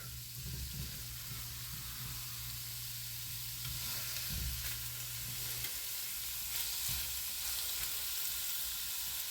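Italian sausage sizzles steadily in a hot pan, a continuous crackling fry with a low hum underneath and a few brief louder spits, no voices.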